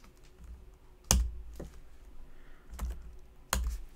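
Computer keyboard keys pressed in the Vim text editor, a few separate sharp clicks spaced out over a quiet background, close and clear with no talking.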